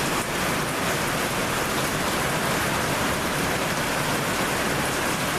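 Heavy rain pours down steadily, a dense, loud hiss of drops drumming on surfaces that never lets up.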